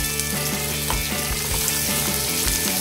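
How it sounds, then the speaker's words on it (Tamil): Mixed vegetables and chilies sauté in hot oil for a Kerala-style vegetable kurma, a steady loud sizzle with light stirring scrapes running throughout, no voices. "இப்போ நம்ம எல்லாத்தையும் ஒன்றா சேர்த்து வதக்கிடலாம்"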